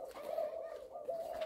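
A young Malaysian dove coos nearby in steady, low, hooting phrases, the soft tones rising and falling with a brief break before resuming.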